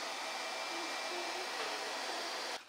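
A dryer blowing on freshly recovered gold, a continuous close airy roar that holds steady for a couple of seconds and then cuts off abruptly.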